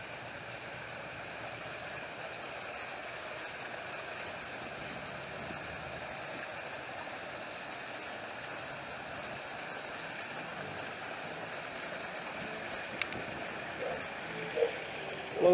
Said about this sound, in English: Here's another little waterfall.